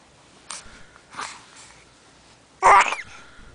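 A baby sneezes once, a sharp, loud burst near the end, after two softer sniffs or breaths in an otherwise quiet room.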